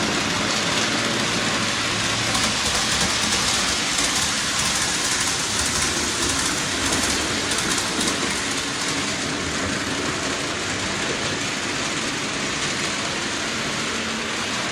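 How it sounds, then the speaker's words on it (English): Steady broadband rumble and hiss of a model train running continuously on a home layout track, fairly close, with no talking. "we're going to catch the train on the lift out again"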